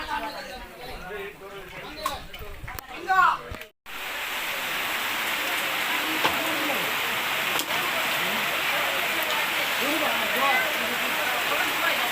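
People talk briefly, then steady heavy rain pours down in a dense, continuous hiss that fills the rest of the clip, falling on an outdoor village cooking site.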